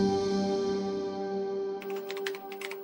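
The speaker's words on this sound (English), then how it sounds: "Roberto sat at his computer typing up a restaurant review" A man at his computer types on a keyboard, a quick run of light, irregular key clicks that rises over a steady droning background tone.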